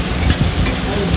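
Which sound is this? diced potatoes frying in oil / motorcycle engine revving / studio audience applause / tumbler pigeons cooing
diced potatoes frying in oil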